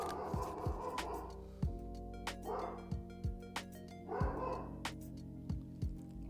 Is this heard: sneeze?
no